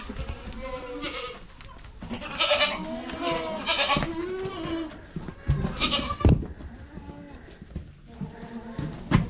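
A loose herd of goats, mothers and their kids, bleats repeatedly at close range in uneven bursts, several animals calling over one another with short pauses between cries.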